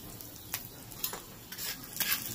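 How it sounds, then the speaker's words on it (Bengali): Chopped garlic and chilli crackle in hot oil in a tawa, a soft close sizzle broken by several short scraping stirs, with no voices. "তেলটা গরম করে নিয়েছি, এর মধ্যে রসুন কুচি আর লঙ্কা কুচি দিয়ে দেবো প্রথমে"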